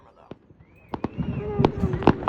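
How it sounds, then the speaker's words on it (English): July 4th fireworks crack and pop in quick, scattered bursts, some with whistling streaks rising between them, growing busier and louder toward the end, while a voice is heard briefly. "you can hear the big booming fireworks because one of the buildings was shooting off like 100 mega combo of all the fireworks they had"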